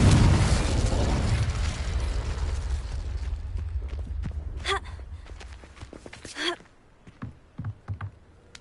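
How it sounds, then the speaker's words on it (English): Fire and blast spells, Incendio and Confringo, going off in the Hogwarts Legacy video game: a loud rumbling burst that fades, followed by scattered softer impacts, swishes and brief magical tones. "Incendio. Confringo."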